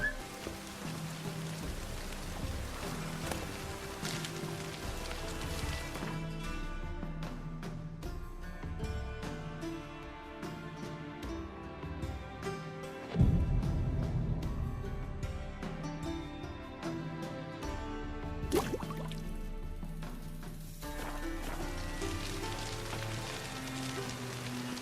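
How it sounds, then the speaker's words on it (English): Rain falls in The Witcher 3 game world, a steady hiss of drops on surfaces throughout, with a louder thump partway through and faint game background sounds underneath. "I like rain."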